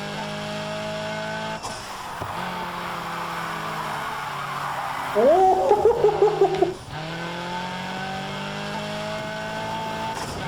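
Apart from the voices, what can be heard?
car engine and tire squeal in NFS Heat video game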